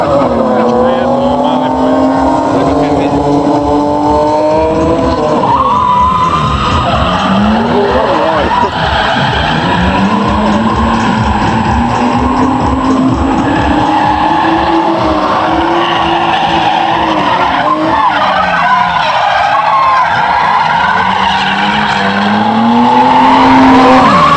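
BMW E36 cars drift through a final battle at a Croatian drift challenge event, with engines roaring loud and continuous, tires squealing and skidding throughout, and the pitch rising and falling as the cars slide.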